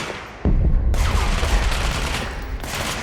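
A single gunshot from the video game Control, one loud, sharp blast followed by a long rumbling tail that fades slowly.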